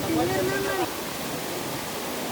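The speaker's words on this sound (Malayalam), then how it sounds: "ആ മന്ദംപൊട്ടിയിൽ നിന്ന് വരുന്ന വെള്ളമാണ് ഇതിപ്പോൾ പാസ് ചെയ്ത് പോകുന്നത്" Floodwater from Mandampotti rushes past during the 2019 Kerala floods as a steady, loud broadband roar that fills the whole stretch, with a brief voice heard near the start.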